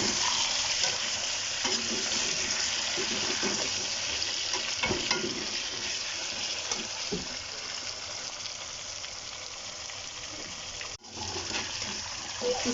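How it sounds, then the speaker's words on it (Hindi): Chicken biryani mixture sizzling and frying in a pot while being stirred, a steady loud crackle with scraping spoon strokes throughout, no talking. "अब इसको अच्छे तरीके से हिला लेना है।"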